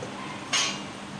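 A spoon scrapes and clinks once against a pan of poha mixture being stirred on a gas stove, a brief close burst in an otherwise quiet kitchen.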